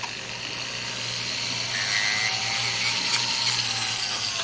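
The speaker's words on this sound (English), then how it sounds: "round the body off there. Slow speed, good sandpaper." A power sander runs at slow speed, rounding off the body of a carved fish pin with good sandpaper, giving a steady mid-to-high whine with faint grinding contact and a slight swell partway through.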